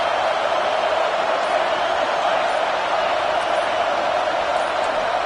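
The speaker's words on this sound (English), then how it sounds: "Listen to this crowd just shaking the girders of this place" A stadium crowd at a college football game roars in a dense, unbroken wall of noise that holds steady and loud throughout.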